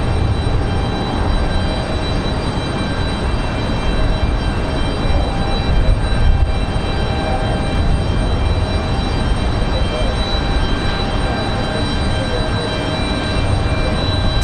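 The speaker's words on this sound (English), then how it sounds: "Got the American A321 back to Charlotte rolling through." An American Airlines A321 rolls along the runway at Raleigh Durham airport in windy conditions, a loud, steady jet engine roar with wind noise that holds evenly throughout.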